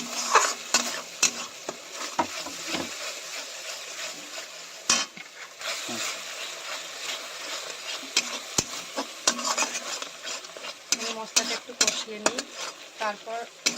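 Spice paste for a potato and pointed gourd curry fries in a pan, steady sizzle broken by frequent scraping stirs and clinks of a spoon against the cookware, close and continuous.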